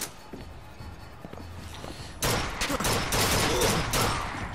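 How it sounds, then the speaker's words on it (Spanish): Rapid machine-gun fire in the first-person shooter BioShock Infinite: a quiet stretch, then dense, loud bursts of automatic shots for the last couple of seconds. "Soy malísimo disparando con esto"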